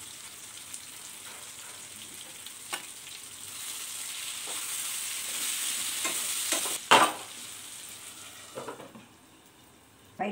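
Curry leaves and tomato frying in oil in a pan, a continuous close sizzle with stirring scrapes that grows louder midway, then a sharp clatter and quieter sizzling near the end, no talk.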